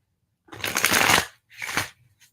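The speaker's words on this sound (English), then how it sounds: "Let's do one more shuffle." Tarot cards shuffled by hand in two quick riffling bursts, a longer one then a shorter one, close and crisp against near silence.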